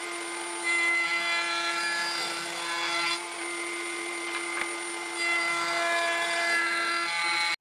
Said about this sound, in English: Now I'm going to have to do some freehand routing around this edge.